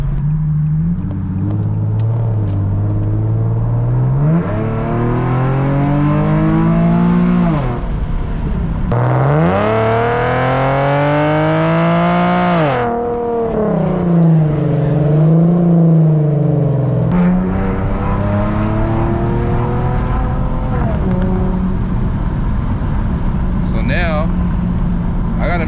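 An Infiniti G37X fitted with Vibrant resonators accelerates hard on a drive in Mexico, its loud, close engine note climbing and dropping repeatedly through the gears in a continuous aggressive drone.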